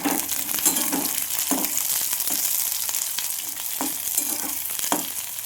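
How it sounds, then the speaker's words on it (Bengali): Onions frying in a pan, a constant bright sizzle broken by repeated scraping stirs and faint clinks, close and loud with no voices. "পেঁয়াজ ভেজে নিচ্ছি"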